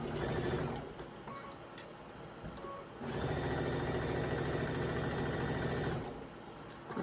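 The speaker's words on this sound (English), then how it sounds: "You just go right to sewing." Sewing machine stitching quilt block pieces for a state block pattern, running in steady close bursts with a brief pause between stretches of fast, even whirring.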